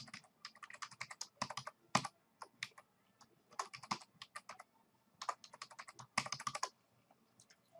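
A password is typed on a computer keyboard in quick bursts of crisp, close key clicks with short pauses between runs, in a quiet room.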